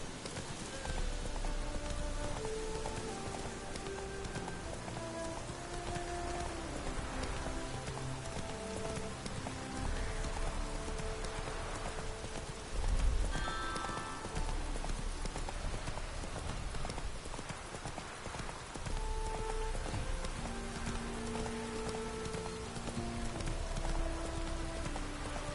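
Horse hooves clip-clopping at a steady canter through steady rain in The Witcher 3, with the rhythmic hoofbeats close and continuous over the rain hiss and a brief louder thump midway.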